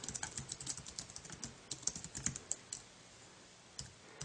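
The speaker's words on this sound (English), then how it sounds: "Let's type something in." Typing on an iPad keyboard dock gives a close run of quick, irregular key clicks that slow down and thin out toward the end, with no voices.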